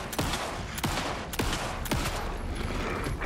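Rapid gunfire from headshots in the video game Alan Wake 2, four loud cracking shots in quick succession over a dense, continuous rumble of game noise.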